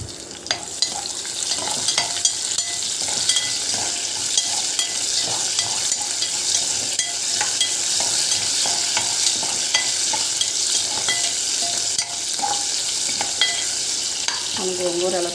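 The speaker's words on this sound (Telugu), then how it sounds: "చూడండి, తాలింపు వేస్తున్నాను" Spices tempering in hot oil for gongura curry, with cumin seeds and ground garlic sizzling steadily while a spoon stirs and clicks against the pan, close and continuous throughout.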